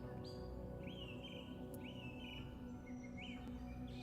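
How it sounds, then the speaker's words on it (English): Birds chirp and whistle at a distance on a grassy plain dotted with trees, short rising calls repeating every second or so over a steady low background drone. "you can hear the birds"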